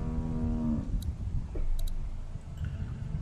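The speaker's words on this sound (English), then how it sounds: "How do you like that cow, Clint?" A cow in The Walking Dead video game lets out a single low, sustained moo at the start, followed by faint ticking and ambient game noise.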